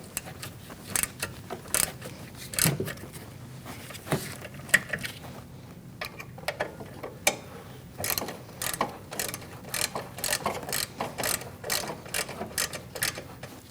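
Ratchet tightening rear brake bolts on a 2008-2014 Mercedes-Benz C300, fairly quiet bursts of quick clicking strokes with short pauses between them, heard alone.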